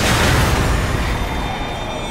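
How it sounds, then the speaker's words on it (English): Loud, sustained low-frequency rumble of a crashed DC-8 cargo jet carrying fuel exploding near a runway end, a heavy boom that rolls on for over two seconds with no voices. "We heard an explosion, enough to shake the building."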